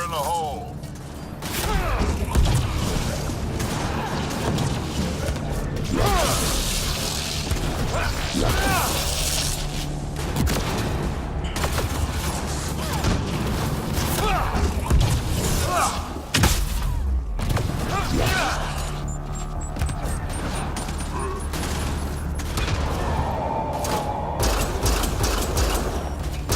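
Grenade blasts and bursts of gunfire from a combat scene in the video game Mass Effect: Andromeda, with repeated heavy thumps, crashes and rattling shots through most of the stretch, layered under voices talking.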